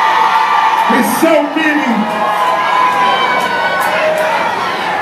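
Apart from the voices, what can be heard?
club crowd cheering and making noise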